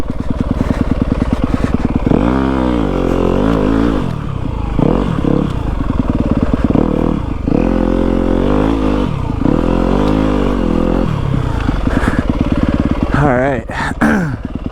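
A Yamaha WR250F dirt bike is ridden through snow, its engine revving up and down in rising and falling sweeps close by, with clattering from the bike.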